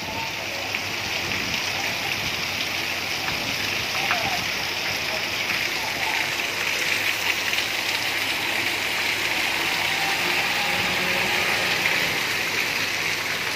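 Heavy rain pours over a city street in Dhaka, a constant broad wash of drops and splashing water that stays level and loud throughout, with some faint talk mixed in.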